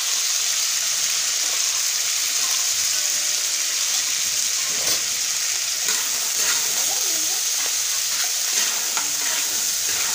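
A spoon stirs a royal achar pickle mixture with turmeric and salt in a pan, giving a steady sizzling, scraping wash of sound that runs close and unbroken for the whole stretch.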